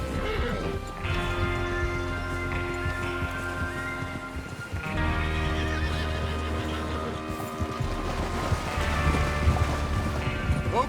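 Horses neigh loudly over clopping hooves in the Western video game Red Dead Redemption 2, with several whinnies standing out against a sustained musical backdrop and hoofbeats building toward the end.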